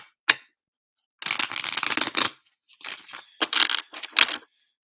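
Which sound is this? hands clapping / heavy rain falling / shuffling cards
shuffling cards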